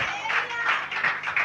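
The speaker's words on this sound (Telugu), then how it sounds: "మరొకసారి చప్పట్లు కొట్టాలి" A church congregation claps during a sermon, a short burst of several quick, moderately loud claps.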